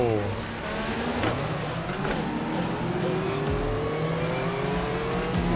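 A race car in a racing video game drones on at high revs, its engine pitch sliding and climbing through gear changes, with occasional tire squeal and other cars passing, steady and loud throughout while someone talks over it.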